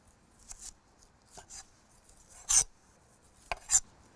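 A knife scrapes and peels the outer skin off a vegetable during breakfast prep, giving five or six short, close rasping strokes spaced irregularly, with quiet gaps between and no talking.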